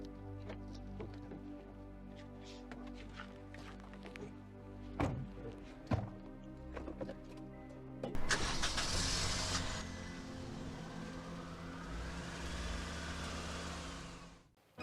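A car, heard first as faint thumps and handling sounds, then a broadband engine surge as it starts and pulls away, fading to a steady receding rumble.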